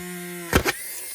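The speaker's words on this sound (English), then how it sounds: "I'm gonna drill a hole." Dremel rotary tool drilling a hole in acetate sheet, a steady tonal motor hum that ends with two short loud grinding bursts as the bit bites through, then fades to a quieter hiss.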